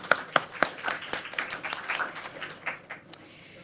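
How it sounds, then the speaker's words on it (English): A conference audience gives brief, fairly thin applause, scattered sharp claps from a modest crowd that thin out and fade to a few last claps near the end. "Let's give them applause."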